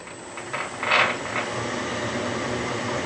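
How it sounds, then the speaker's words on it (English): A metal lathe cutting a metric thread runs in reverse with the lead screw engaged and winding the carriage back. A close, steady mechanical whir and gear rattle play with a brief louder ratcheting swell early on. "wind your cross slide back, one full turn, reverse the lathe."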